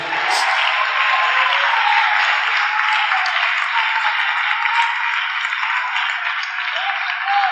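A church congregation applauds during a Spanish-language sermon, a steady, dense wash of clapping that holds at full strength and stays close for the whole stretch.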